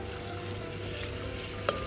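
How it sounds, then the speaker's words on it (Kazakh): Carrots fry in hot oil for pilaf, a close, steady sizzle and crackle with a single sharp click near the end, and no talking. "Сәбізді осылай жақсылап қуырылған, етін бірге бояуы шығу үшін."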